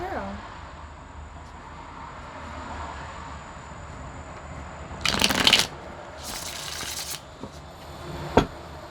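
Tarot cards being shuffled up close in two quick crisp riffle bursts over a quiet room, followed by a single sharp tap.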